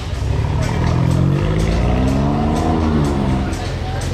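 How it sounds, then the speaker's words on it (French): A loud, throaty sports car exhaust roars continuously, its pitch sweeping up and down as the engine revs nearby in Monaco during the Grand Prix. "Celle-ci elle a un échappement, on va essayer de l'entendre."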